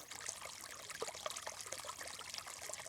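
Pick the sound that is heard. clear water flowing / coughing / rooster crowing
clear water flowing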